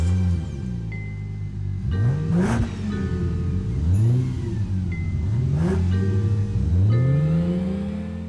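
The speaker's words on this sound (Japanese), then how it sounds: "赤いスポーツカーはエンジン音のうなりを上げさっさと走り去ってしまった" A red sports car in the horror video game Shin Hayarigami 2 roars as its engine revs repeatedly through rising gear sweeps, accelerating away in several surging pulses without any voices.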